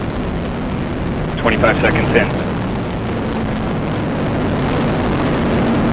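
An Atlas V rocket launch produces a loud, broad, continuous roar and rumble, steady throughout the short stretch, with a brief spoken callout briefly heard over it.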